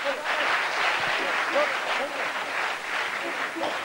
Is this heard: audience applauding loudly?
yes